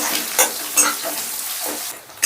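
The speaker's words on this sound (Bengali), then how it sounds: "এবার পেঁয়াজটাকেও আমি হালকা সফট করে নেব" Finely chopped onion softening in hot oil, a soft sizzle broken by a few short spatula strokes stirring through the pan, close and clear with no talking.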